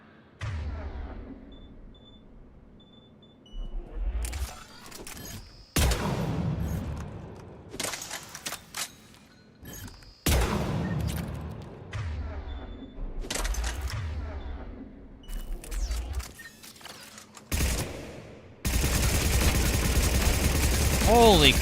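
Gunfire from a weapon in the game Mass Effect 3 comes in several separate bursts of sharp rapid shots, loud and close, with quiet gaps between volleys and a voice talking at times.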